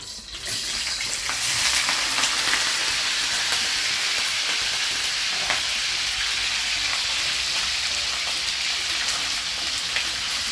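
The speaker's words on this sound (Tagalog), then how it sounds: "You can actually skip this step, but I find it more savory and nice if you fry the meat." Chicken and pork adobo meat fries in a pan with a loud, continuous, close-up sizzle and crackle that holds steady throughout with occasional stirring sounds and no voices.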